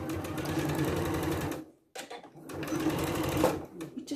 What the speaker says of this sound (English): so nice little bit of stitching. You can do a box if you want to, or just a little bit of backwards and forwards